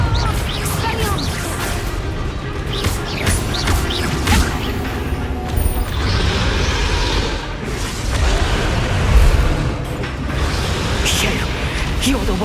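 Confringo explosive spell blasts in the Hogwarts Legacy video game, a dense run of booming crashes and whooshing impacts over rumbling battle noise, with voices speaking over it.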